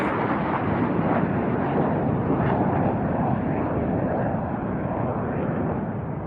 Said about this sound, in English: Our solo pilot is coming again, MB339, up to the sky will be 2 rolls, 2 spins